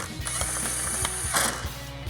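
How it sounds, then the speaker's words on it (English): An impact wrench with a 10mm socket drives grille mount screws on a 2013-2018 RAM 1500, giving a short burst of rapid, rattling hammer clicks at close range. "We've got our 10mm socket on our impact. Get our two center ones in first,"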